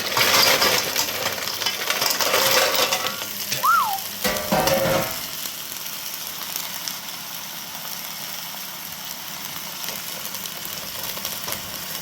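Turban shells, fresh sea snails, tumble into a hot pan with a burst of rattling clatter and sizzling, loud at first, then settling to a quieter steady fry.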